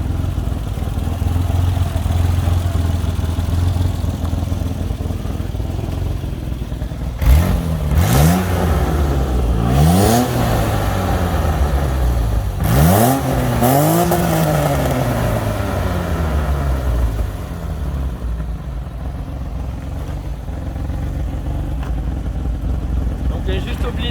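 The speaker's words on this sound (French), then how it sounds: "Je vais juste mettre 2-3 coups de gaz et puis ça sera bien." A 1988 BMW E34 with the M20B25 inline-six is revved two or three times, each blip rising and falling sharply over a steady close idle, with someone talking over parts of it.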